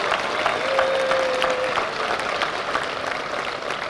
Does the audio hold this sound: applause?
yes